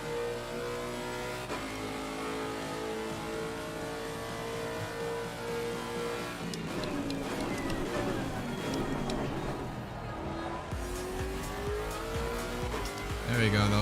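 A Lexus RC F race car in the Assetto Corsa Competizione racing game, its engine droning and then surging as boost kicks in, revs climbing with tire squeal near the end while someone talks over it.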